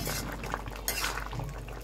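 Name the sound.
stirring jute leaves with lentils in a pan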